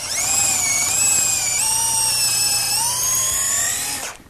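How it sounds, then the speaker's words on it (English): A high-pitched electric drill with a larger bit enlarges a pilot hole in a table, whining steadily for a few seconds, its pitch wavering slightly as it bites, then winds down and stops. "I'm just going to use a larger bit in the drill."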